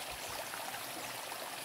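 Water from a natural spring flowing steadily, a close, even rushing trickle without pause.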